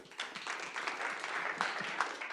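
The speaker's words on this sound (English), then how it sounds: "Give another round of applause." Modest audience applause after a talk at a programming meetup, a brief patter of scattered clapping from a small room, fairly faint and close.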